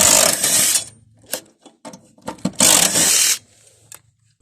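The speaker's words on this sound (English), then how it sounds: "So remove your blades however you do it. I use an impact driver, 14mm." Impact driver with a 14mm socket removing the blades from a Honda lawn mower, two loud bursts of rapid hammering with short clanks and rattles between them.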